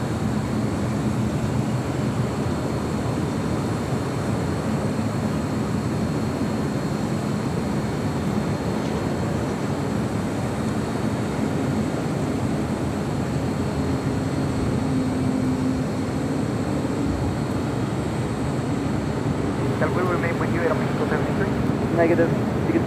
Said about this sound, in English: Emirates A380 Super now short final for 24 right